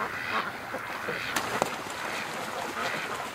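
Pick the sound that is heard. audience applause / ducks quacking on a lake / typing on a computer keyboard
ducks quacking on a lake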